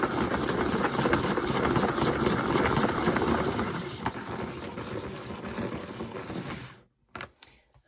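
A salad spinner with paint inside is cranked as fast as possible, giving a loud, steady whirring rattle for about seven seconds before it cuts off abruptly, followed by a couple of light knocks.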